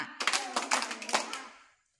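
Hands clap out the syllables of a Marathi word in a children's classroom language game: quick, crisp claps fall in short rhythmic groups, close and distinct, then stop to silence.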